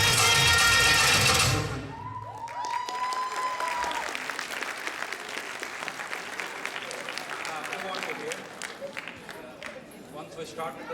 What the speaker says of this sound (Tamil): Big round of applause to beautiful dancers.